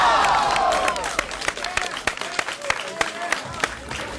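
A crowd applauds and cheers for a man's dance moves, with dense clapping and sharp individual claps punctuating a steady roar of voices close by.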